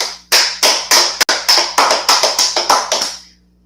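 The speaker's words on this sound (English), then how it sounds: "let's clap it up for class." A class clapping in a short, uneven burst of about a dozen sharp, close hand claps that speed up toward the end. The claps then stop abruptly, leaving a faint low hum underneath.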